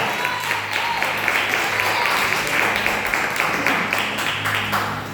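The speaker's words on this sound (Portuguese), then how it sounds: "Aplauda ao Senhor Jesus, aleluia." A church congregation at a family worship service applauds steadily for the full stretch, a dense, even wash of many hands clapping at close range, with voices mixed in.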